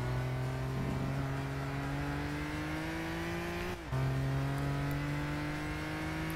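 Lamborghini Countach LP400 '74 engine in Gran Turismo 6, a steady, loud sustained drone with rising pitch, briefly cutting out near the middle before resuming at full strength, with no talk over it.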